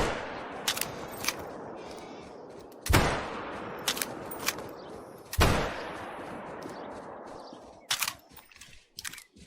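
Rifle shots in the hunting game Call of the Wild on the Emerald Coast Australia map: three sharp, loud reports spaced a few seconds apart, each followed by a long rolling echo, with a quieter clicky tail near the end.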